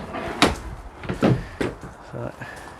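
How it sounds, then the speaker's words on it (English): Rear door of a Ford Transit Custom refrigerated van being opened, giving several sharp knocks and clunks of latch and panel in quick succession, close and fairly loud, with someone talking around them. "Should probably open the door and show you the fridge in the back."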